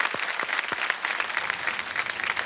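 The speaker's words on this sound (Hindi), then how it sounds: "तालियों के साथ इनका एक बार अभिनंदन हो जाए" A studio audience at a television quiz show breaks into dense, even applause, a brisk burst of many hands clapping together with no voices over it.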